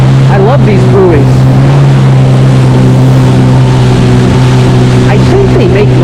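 2025 Yamaha Waverunner VX Cruiser HO personal watercraft running on open water during break-in, a loud steady engine drone close up with rushing spray and wind noise throughout.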